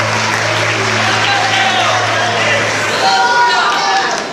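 A church congregation at a missions congress in Pernambuco claps as people take their seats, a loud continuous patter with crowd murmur and a low hum underneath, voices mixed into the clapping.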